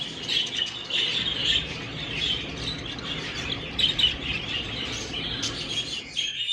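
Exhibition budgerigars in an aviary chirp and twitter continuously, a busy flock of bright overlapping calls close by, with occasional louder squawks and no talking.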